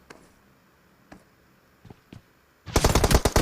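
PUBG Mobile gunfire, a few isolated shots followed by a loud, rapid automatic burst at close range that runs to the end.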